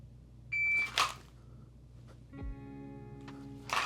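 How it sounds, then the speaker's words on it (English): A shot timer gives a short electronic beep during dry-fire practice, followed by faint clatter and another brief tone near the end; no talking. "I'm just gonna set it to a regular beep"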